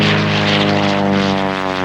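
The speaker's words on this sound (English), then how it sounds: "flying a pit special, the airplane that's called the Rolls-Royce of aerobatic airplanes" A Pitts Special aerobatic biplane's propeller engine drones steadily and loudly, its buzzing tone holding constant pitch as the plane flies close by.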